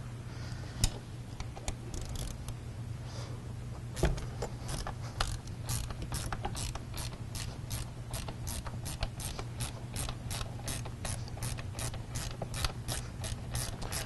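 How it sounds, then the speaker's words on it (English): A ratchet wrench loosens bolts on an early-2000s Ford F250 pickup, giving a steady run of quick, close clicking strokes that continue evenly throughout. "I'll need that wrench."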